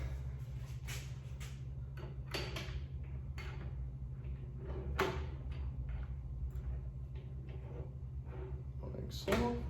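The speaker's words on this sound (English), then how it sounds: "Now we're gonna slide the other door's brackets in." Sliding the door brackets of a ClosetMaid cabinet into place during assembly, giving several short clicks and knocks of hardware spread unevenly over a steady low hum.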